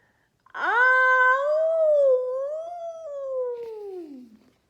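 A single long howl in imitation of a dingo, made by a human voice. It is close and loud, swelling quickly, wavering as it holds, then sliding down and fading after about four seconds.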